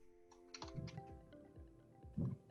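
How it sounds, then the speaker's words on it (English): Keys clatter on a computer keyboard in a quiet room, with soft clicks early, a denser run of strokes through the middle and a louder burst near the end. "I'm typing it into the comments right now"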